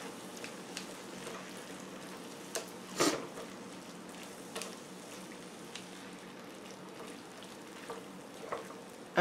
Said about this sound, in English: I'm going to mix all this up and let it cook and simmer.